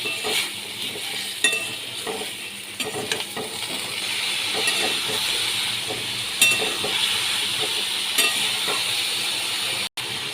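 Pieces of gathi kochu (taro) are stirred and fried in a pan with spices, giving a steady close sizzle with scraping stir strokes and occasional utensil clinks against the pan throughout.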